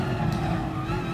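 Race car engine lapping Bathurst in GT Sport, a loud close steady drone held at constant pitch through the whole moment, alone and unbroken.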